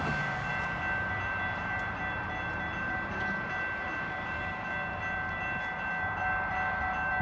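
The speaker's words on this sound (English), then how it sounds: "you can see this old cab car horn in action" A sustained, steady horn tone from old cab car 254 sounds throughout over a low rumbling rail background, close and fairly loud, on a 12-car train pushed by an MP40 locomotive.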